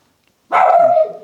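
A single dog barks loudly and close, one sustained bark tailing off, heard alone after a moment of silence indoors.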